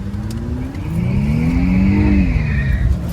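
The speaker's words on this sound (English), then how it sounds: "Tires spinning like a mug." An Infiniti Q50 spinning its tires with traction control switched off: a loud, close engine rev rises and holds, with a high tire squeal over it, and no one speaks.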